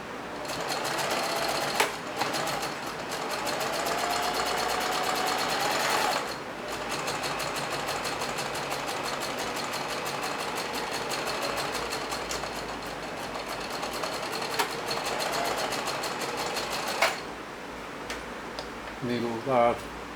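A sewing machine runs in one steady, continuous stretch of stitching, loud and close. A few short clicks and pauses break the whir, and a brief burst of stitching comes near the end.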